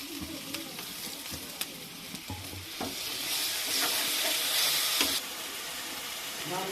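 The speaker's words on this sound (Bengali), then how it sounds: "দিয়ে আমরা একটু মশলাটাকে জল দিয়ে অল্প একটু কষিয়ে নেব" Ground spice paste with cumin and garam masala is stirred and sautéed with a splash of water for a prawn curry, with scraping strokes over a soft sizzle that swells into louder hissing steam midway, close up.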